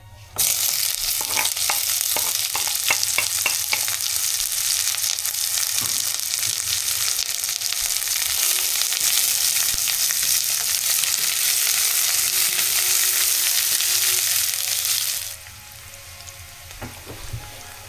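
Chopped onions fry in oil over medium heat, a dense, steady sizzle lasting about fifteen seconds with a few early stirring clicks, then dropping suddenly to a quiet hum.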